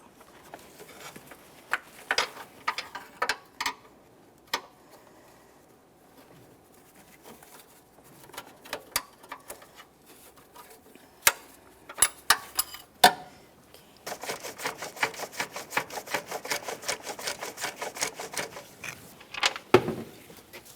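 A ratchet wrench removes 14mm mounting bolts on a 2015-2019 Subaru Outback 2.5L H4 during a valve cover gasket job. Sharp clicking bursts come intermittently, then build into a longer, steady run of rapid ratcheting clicks near the end.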